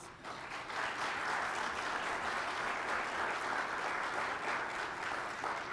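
A roomful of people at an Education Ministry stakeholder meeting with a business and energy chamber applauds in a thick, continuous wash of clapping that stays even throughout.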